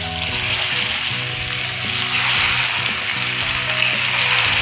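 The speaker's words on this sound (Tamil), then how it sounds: "இப்போ நம்ம இதை ஃபேனில் ரோஸ்ட் வந்து ஆட் பண்ணிடலாம்" Marinated rock fish (parai meen) frying in a pan, a loud continuous oily sizzle and crackle running steadily throughout, close up with faint stirring clatter and no voices.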